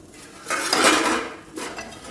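Jackfruit seed chips are stirred in a metal pan for chikki, producing a close scraping swirl with a metallic rasp that swells, fades, then briefly returns.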